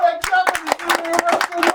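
Hands clap in a quick, irregular burst at the end of a comedy game show episode, a dozen or so sharp nearby claps over a sustained sung or hummed tone.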